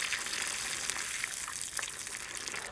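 Bread frying in oil heated to 170–180 degrees, a steady dense sizzle throughout with faint crackles, close and alone without talk.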